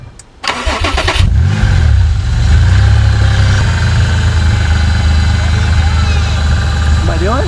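A Volkswagen Vanagon Syncro Westfalia fitted with a Subaru SVX engine cranks briefly, catches and settles into a loud, steady idle nearby, humming evenly for several seconds.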